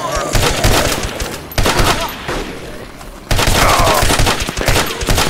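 Gunfire in the DayZ video game, in two loud volleys of rapid shots separated by a quieter pause, with faint voices beneath.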